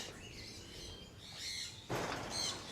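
Birds in a large aviary give faint chirps and tweets at a distance, with a brief rustle like wings, and no talking.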